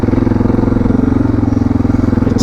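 A Suzuki DR650 on knobby tyres riding at steady speed, its single-cylinder engine thrumming with a loud, even pulsing beat and wind rush close to the microphone.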